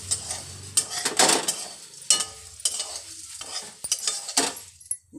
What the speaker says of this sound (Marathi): हे असे खालीवर करता येते असे दोन्ही चमच्याने धरून हलवूया